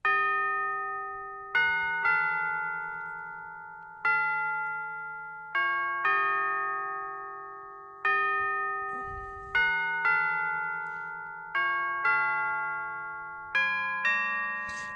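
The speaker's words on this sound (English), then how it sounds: "Now there's this other one here called Bell. Now this is a really cool sound." A chiming bell melody from a song stem, each struck note ringing out with bright overtones and slowly decaying, about ten strikes in an unhurried, uneven rhythm with no voices.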